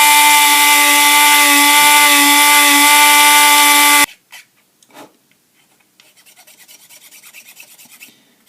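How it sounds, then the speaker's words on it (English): Power sander working a larger wooden side piece, a loud steady whine with constant rasping for about four seconds before cutting off abruptly, followed by a few light knocks and faint handling noise. "that larger side piece we're going to go ahead and just sand down quickly"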